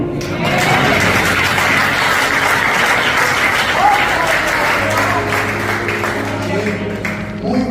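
A church congregation applauds steadily for several seconds, dense clapping filling the room before thinning out under a low hum near the end.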